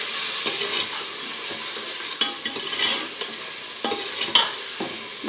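Spices with onion and garlic, being fried for a chicken daal, hiss and crackle in a pan while a spoon stirs in repeated scrapes and knocks against the pan.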